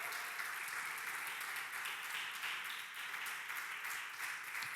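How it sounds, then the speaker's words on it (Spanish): A church congregation claps in a broad, continuous wash of applause, evenly sustained and fairly distant, with no voices standing out. "Denle un aplauso al Señor."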